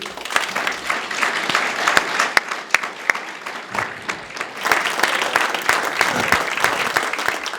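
Sustained audience applause at a Vermont panel discussion, steady dense clapping throughout with a few sharper nearby claps standing out.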